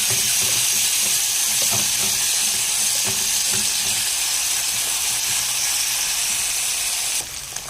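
Garlic fries in hot oil with a loud, steady close-up sizzle and hiss, with faint stirring knocks underneath, and the sound drops off near the end.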